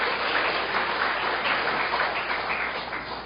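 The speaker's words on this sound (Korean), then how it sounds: "박수 한번 해줘요" A church congregation at a Sunday evening service bursts into steady, full applause that holds at an even level for the whole stretch, with no voices rising above it.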